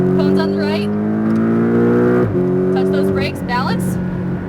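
Car accelerating hard out of a corner on a cones-marked driving course, engine note rising in steady revving harmonics with a brief shift dip midway, loud and close, while a driving coach talks over it.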